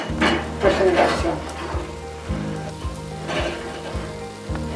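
Mbejú, a cassava-starch and cheese flatbread, cooking in a frying pan that is shaken from side to side: a steady close sizzle with light scraping and rattling of the pan.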